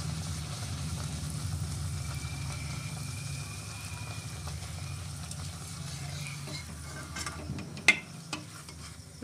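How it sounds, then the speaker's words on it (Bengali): Luchi puffing in hot oil: a continuous bubbling sizzle that stays steady at close range, ending with a few sharper clinks and spatters of a utensil near the end; nobody speaks. "আমি সাদা সাদা লুচি খেতেই ভালোবাসি, তাই সাদা সাদা করেই ভাজছি"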